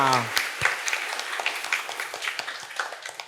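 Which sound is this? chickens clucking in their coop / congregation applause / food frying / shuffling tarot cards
congregation applause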